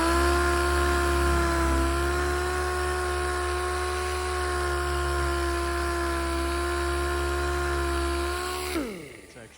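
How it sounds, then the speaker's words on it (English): Dual-action sander with 400-grit paper scuffing a body part from a 1995 Ducati 916, a steady high whine running nearly ten seconds before spinning down at the end. "I'm just gonna scuff this down with the DA with like some 400"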